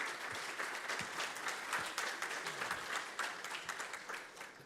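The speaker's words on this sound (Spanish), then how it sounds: "vamos a recibir con un muy fuerte aplauso a nuestro primer expositor internacional, el profesor Larry Wilson." An audience at a talk gives sustained applause to welcome international speaker Professor Larry Wilson, a moderately distant, even wash of many hands clapping with slight swells, no voices over it.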